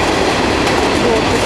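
A southbound Norfolk Southern mixed freight train rolls past Cooke Road in Columbus, Ohio, a loud, dense, continuous roar of wheels and cars passing close by, with no break.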